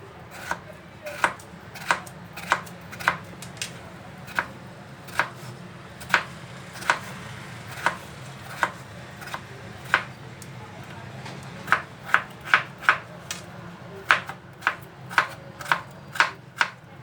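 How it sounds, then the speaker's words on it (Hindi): Washed potatoes being chopped with a knife on a board: a long run of crisp, evenly spaced cuts, close and clear, speeding into quicker bursts toward the end, with no talking. "आलू को मैंने धो लिया, अब इनकी कटिंग करेंगे।"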